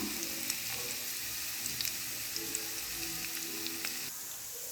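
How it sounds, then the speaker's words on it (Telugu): Onions and a tablespoon of tempering spices frying in oil, a continuous gentle sizzle dotted with small crackles and light stirring clinks, close and fairly quiet, with no talking. "అలానే పోపు దినుసులు కూడా ఒక 1 టేబుల్ స్పూన్ అయితే వేసుకుందాం"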